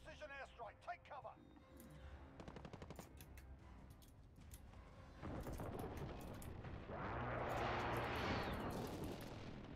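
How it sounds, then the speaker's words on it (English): Precision airstrike explosions in a multiplayer video game arrive as a rolling barrage of booming blasts that builds into a sustained roar, preceded by rapid gunfire and game voice callouts. "Enemy precision airstrike."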